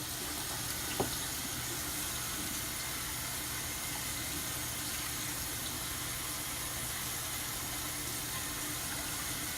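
Water runs steadily from a kitchen tap into a cooking pot, a continuous even splashing rush that fills the whole stretch with no talk over it.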